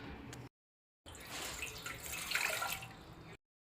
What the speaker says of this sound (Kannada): 220 ml ಅರೌಂಡ್ ನೀರು ಹಾಕೇನ್ರಿ.